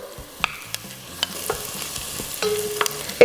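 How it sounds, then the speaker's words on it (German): Chorizo fries in a pot as the base for a simple paella, sizzling softly under sharp clicks and scrapes of stirring. The sounds are close and clear, with no speech. "Dann tue ich die Chorizo anbraten."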